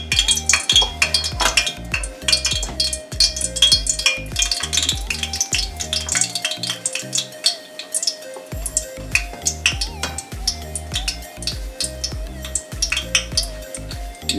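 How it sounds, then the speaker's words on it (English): Jamaican banana fritter batter frying in hot oil on a stove, a steady close sizzle and crackle with occasional clinks of utensils and pans, no voices. "You're frying them about 3 minutes on each side."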